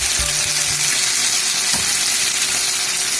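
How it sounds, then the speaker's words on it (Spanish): Pork sizzles loudly in a pan as seasoning juice is poured in while cooking entomatado, a steady dense hiss with a few soft low knocks near the start. "Entonces es el momento en que le vamos a agregar el jugo sazonador."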